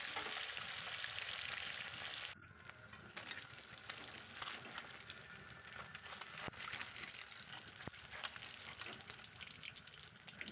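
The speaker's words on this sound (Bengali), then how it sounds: "মাছগুলো একটু কড়া করে ভেজে নিচ্ছি।" Pabda fish fry in a generous amount of hot oil, giving a dense, continuous sizzling crackle heard up close, with occasional sharper pops and stirring sounds.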